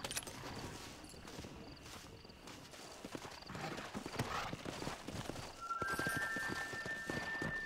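Rapid hoofbeats of a galloping horse in Red Dead Redemption pound steadily throughout, with a faint high tone appearing near the end.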